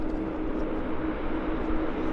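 Steady broadband engine roar of a long-haul jet airliner at Vancouver airport, heard from a distance, continuous and moderately loud with no talk.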